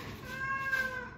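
A cat gives a single short, clear meow indoors during a home workout, moderately close over a quiet background hum.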